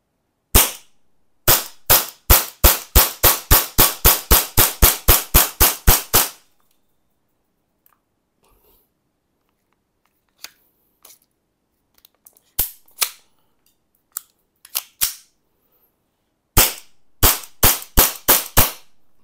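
An R501 gas blowback airsoft pistol with a 28-round magazine fires a fast string of about fifteen sharp, close cracks. A pause with a few scattered clicks and single shots follows, then another quick burst. No one speaks.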